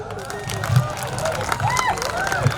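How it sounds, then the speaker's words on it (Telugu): An audience at a song launch event for the film Alluri at JNTUK college in Kakinada claps and cheers in a brief burst of hand claps mixed with crowd babble and voices. "క్లాప్స్"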